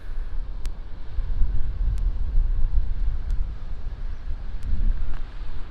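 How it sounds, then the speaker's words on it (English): Wind buffets the microphone out on the ocean near Portland, Maine, on a boat: a constant low roaring rumble with gusty swells and a few faint sharp ticks. "It's a little windy."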